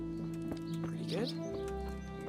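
Horse sounds from the medieval game Kingdom Come: Deliverance at a horse trader: a brief snort or whinny rises over a steady hum of game music and ambience, with a voice talking in the background.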